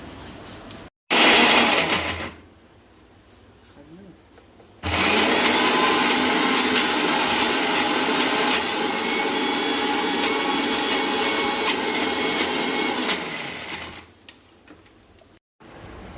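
An electric mixer grinder purees tomatoes with salt into a smooth paste for South Indian tomato pickle. A loud, steady whirring roar runs about nine seconds, with a brief burst of the motor before it and quiet kitchen pauses around it.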